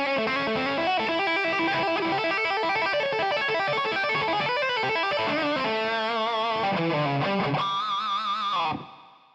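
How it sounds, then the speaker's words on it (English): Electric guitar through a distortion pedal into an Origin Effects Cali76 compressor plays loud, sustained distorted chords and riffs without pause, then a final chord rings out and cuts off near the end. "So here is what I like to use for a distortion tone."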